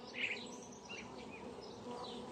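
Honeybees buzz around beehive frames in a faint, continuous low hum, with a slightly louder pass near the start.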